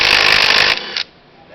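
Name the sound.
impact wrench removing reverse-thread scooter fan nut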